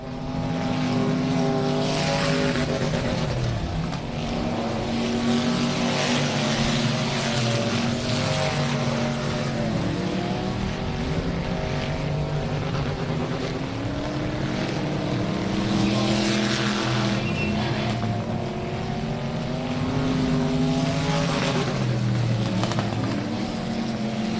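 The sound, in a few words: race cars racing on a dirt track, final lap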